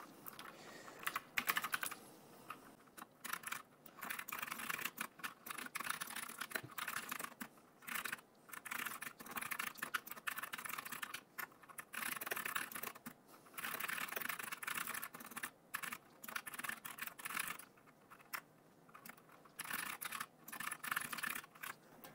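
Steady typing on a computer keyboard while entering code for a Shopify site, a continuous patter of quiet, close key clicks in bursts with brief pauses, no voice.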